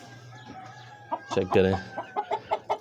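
A rare-breed rooster in winter moult gives a series of short, rhythmic clucks close by, with a louder burst midway. A person speaks briefly in the background.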